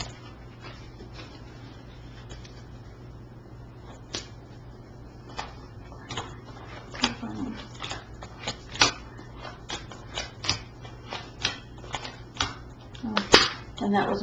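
Tarot cards being shuffled by hand, a run of soft irregular slaps and riffles that grows busier toward the end over a faint steady hum, with no talking.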